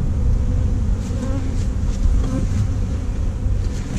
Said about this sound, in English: A little bit of bee activity